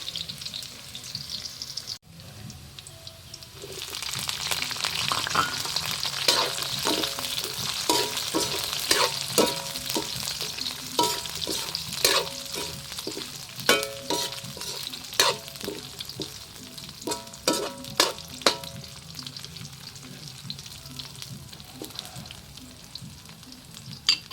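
Onion and garlic sauté in a hot pan for a sutanghon with kikiam dinner, a steady sizzle broken by a run of sharp spatula scrapes and taps against the pan in the second half, with no voices.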